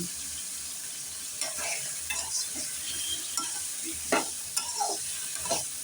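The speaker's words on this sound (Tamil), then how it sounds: "இந்த காயமும் கொஞ்சம் வதக்கி விடும்" Eggplant and drumstick pieces sautéing in a pan for sambar give a steady low sizzle, with several brief spatula scrapes and stirring clatters spread across it, fairly close and with no talking.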